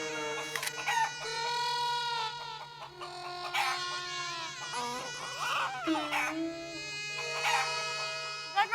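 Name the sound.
man imitating a rooster crowing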